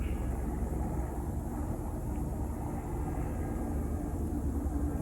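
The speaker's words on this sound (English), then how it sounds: "A police helicopter circles." Low, steady rotor-like rumble of a police helicopter circling overhead, a continuous droning wash that holds evenly throughout with no speech.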